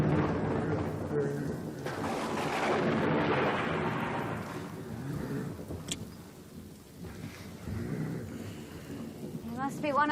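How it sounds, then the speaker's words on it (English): A storm rages outside at night, a dense, steady roar of wind and rain-like hiss with low rumbling that swells and eases over ten seconds, loud and enveloping. "It's the wind outside. It's turning into quite a storm."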